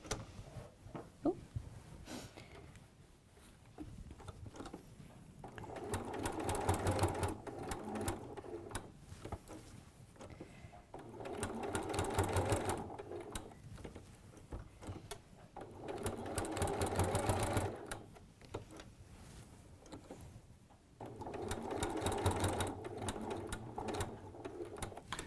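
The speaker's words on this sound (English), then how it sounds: "I'm just going to use a straight stitch. And again, I'm going to use that needle down function all the way through." A domestic sewing machine runs a straight stitch with needle-down, whirring in four steady bursts of fast rhythmic stitching, each followed by a quieter pause.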